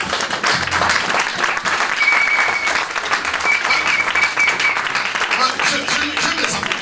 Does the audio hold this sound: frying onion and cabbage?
no